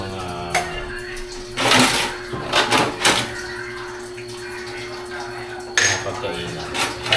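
Dishes and eating utensils get washed at a campsite: loud clatters of plates and cutlery, scraping and sloshing water come in bursts over a steady background hum.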